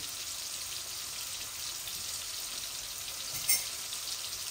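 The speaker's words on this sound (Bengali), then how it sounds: "আমি মাছগুলা বসাই দিয়েছি, লবণ হলুদ মরিচ অল্প একটু দিয়ে মাছগুলা ভাজা ভাজা হয়ে যাক।" Tilapia fish pieces seasoned with salt, turmeric and chili frying in oil, a steady moderate hiss throughout with one brief clink near the end.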